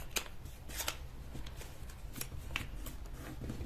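Paper being creased and folded by hand for an origami fish, soft close crinkles and brisk rustling strokes in short bursts, quiet and alone.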